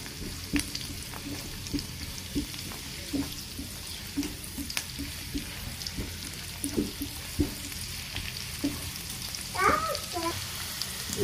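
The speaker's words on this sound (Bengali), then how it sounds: "এগুলোকে ভালো করে ভেজে নিতে হবে।" Snake gourd frying with spices in a pan, a steady soft sizzle with occasional stirring scrapes and clicks, close and fairly quiet, with no talking.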